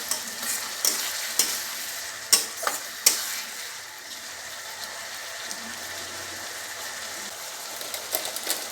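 Tomatoes sautéed down in a pan, stirred with repeated spatula scrapes and clicks over a steady soft sizzle, close by and moderately loud, with no voices.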